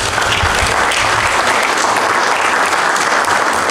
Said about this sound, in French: J'ai nommé Henriette Mombo sur vos ovations, s'il vous plaît.